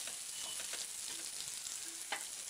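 Onions, green chillies and curry leaves fry in hot oil for egg fried rice, producing a dense, even sizzle throughout with a few faint spatters, close by and with no talking.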